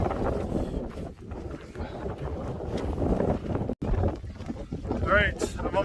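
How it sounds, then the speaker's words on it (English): Strong wind buffets the microphone near a mountain summit on the GR20 trail in Corsica, producing a loud, continuous roar with gusty swells and one abrupt dropout. "The wind's so strong it's actually helping to push me up the mountain."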